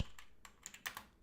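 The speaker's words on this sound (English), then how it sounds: "I'm typing so quick" Quick typing on a computer keyboard, a brisk run of light key clicks and taps at close range, irregular in rhythm with a few sharper strikes near the end.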